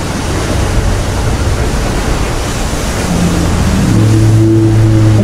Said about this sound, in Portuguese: O mais legal são os barulhos realistas aqui do Titanic afundando. O barulho do metal, né?